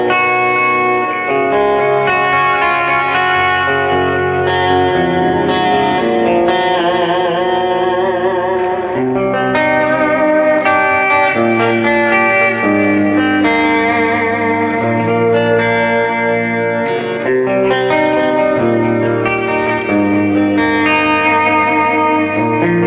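An electric guitar plays through a Boss eBand JS-10 amp set to an 80s heavy-metal tone. It is loud and continuous, with sustained distorted notes and melodic runs washed in reverb and echo.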